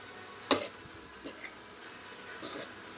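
Adobong labong, bamboo shoots in adobo, sizzling and being stirred in a pan: a faint steady fry with a sharp utensil clink near the start and scattered scraping taps after it.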